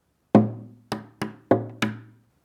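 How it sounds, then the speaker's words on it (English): Five sharp percussive knocks strike the face and side of a guitar body, alternating lower and higher thuds in an uneven rhythm, each ringing briefly before decaying. "percussive sound resulting from striking the guitar"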